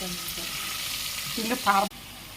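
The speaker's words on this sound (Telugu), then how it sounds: "కడిగి పెట్టుకున్న చేప ముక్కలను పచ్చివాసన పోయే వరకు ఉప్పు, కారం, పసుపు వేసి వేయించుకోవాలి" Fish pieces fry in hot oil with mustard seeds, coriander, cumin, onion, dried and green chillies and curry leaves for a Nellore fish curry. A steady close sizzle carries a brief scraping stir near the end and stops suddenly.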